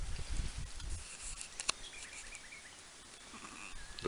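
Sheep bleat faintly in the open air on a former bomber base and racing track, a few scattered calls over steady wind and background noise.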